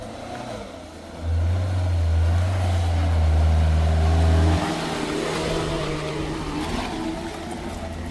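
A Suzuki Jimny off-roader climbing an off-road slope, its engine rising into a loud, steady revving drone for about three seconds before settling to a lower rumble.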